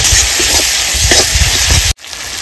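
Spice paste being fried down for a village-style mutton curry, a loud continuous close hiss and sizzle with low stirring rumbles, cutting out briefly near the end before resuming.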